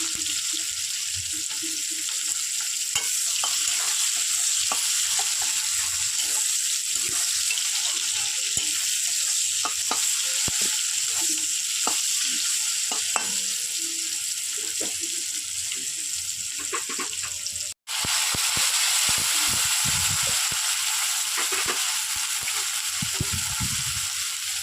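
Chopped onions sizzle and crackle steadily in a hot pan with black cumin seeds, a dense close frying hiss running throughout with occasional stirring clicks and a faint television murmur in the background.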